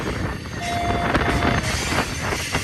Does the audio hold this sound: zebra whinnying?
no